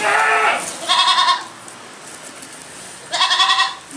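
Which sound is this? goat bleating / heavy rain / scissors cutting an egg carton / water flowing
goat bleating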